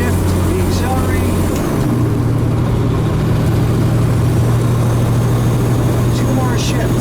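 A truck with a 13-speed transmission drones under steady engine hum while it shifts gears, and the engine pitch drops and settles partway through with a low continuous rumble.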